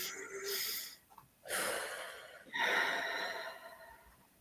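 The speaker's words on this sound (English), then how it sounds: "stop tapping and take a deep breath in." A slow, deep breath drawn in and let out after EFT tapping, a long airy inhale followed by a sighing exhale, close and soft with no talking.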